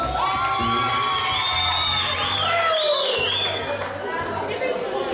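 A wedding crowd cheers, whoops and shouts for Zdravko in a loud, continuous roar, with high excited calls rising over dense chatter throughout.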